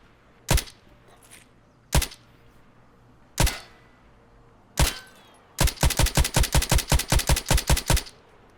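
SR1M suppressed pistol fired in Escape From Tarkov: four single muffled shots spaced about a second apart, then a rapid burst of about a dozen shots, all close and punchy with no talking.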